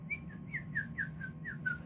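A person whistles a run of short, bright, sliding notes imitating bird calls, about eight chirps in quick even rhythm, close and clear over a low steady room hum.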